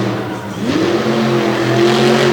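Driven by Devin Jones, a monster truck roars hard through a freestyle run at a Madison, Wisconsin event. The engine is loud and close, its pitch rising and holding in a sustained rev with arena noise behind it.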